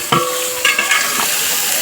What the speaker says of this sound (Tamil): இப்போ நம்ம வெங்காயம், பச்சை மிளகாவும் சேர்த்துக்கலாம்.